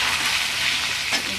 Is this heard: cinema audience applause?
no